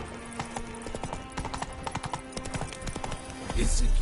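Horse hooves clip-clop at a steady trot in the video game The Witcher 3, with rhythmic close footfalls over game ambience and a louder burst of sound at the end.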